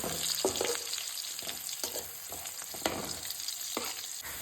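Garlic, sliced onion and green chili frying in melted butter give a continuous soft sizzle, broken by repeated scraping taps of stirring at an uneven rhythm, close and fairly quiet.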